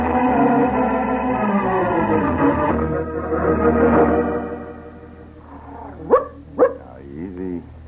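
A dog in an old radio drama gives a couple of sharp barks and a few whimpers near the end, after a stretch of music and voices, close and clear.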